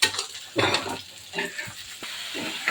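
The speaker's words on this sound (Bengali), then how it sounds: "আলু ভেজে নিয়েছে, এখন কষিয়ে নিচ্ছে" Fried potatoes sautéed with spices and green chillies in a pan: close, uneven sizzling with bursts of stirring and scraping, heard alone without talk.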